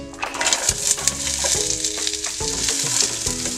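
Oil heating and sizzling in a pan on a makeshift stove before onion goes in, a crackling fry with a few knocks and scrapes of utensils, close and fairly loud.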